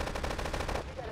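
Rapid automatic gunfire in GTA 3, a fast steady burst of shots up close that stops abruptly near the end of the clip.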